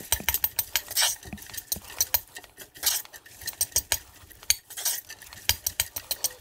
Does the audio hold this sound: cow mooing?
no